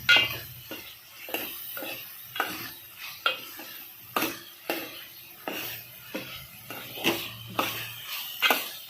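Palak paneer cooks in a pan with soft frying underneath a regular run of utensil scrapes and clinks against metal, roughly two per second, close by and with no speech.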